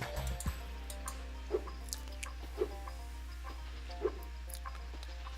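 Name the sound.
chickens clucking in video game Spyro 2: Ripto's Rage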